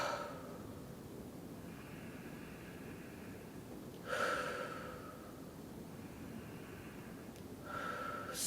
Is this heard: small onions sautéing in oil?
no